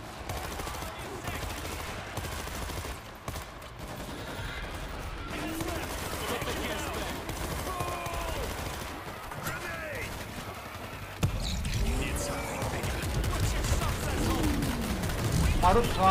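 Heavy automatic gunfire from the zombie shooter World War Z, Moscow level, rattling on continuously under dense game sound and chatter, growing louder and busier in the final seconds.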